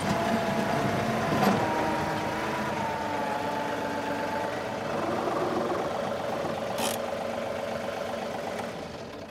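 A John Deere 2038R compact tractor's engine hums steadily at close range as it drives onto a trailer, with a couple of faint clicks and no voices.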